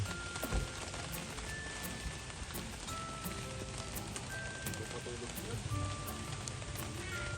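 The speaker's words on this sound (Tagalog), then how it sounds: "Inabot na ng ulan." Steady rain falls throughout at an outdoor meal in Alberta, a dense even patter on surfaces with occasional brief sharp clicks, while people talk nearby and dishes clink.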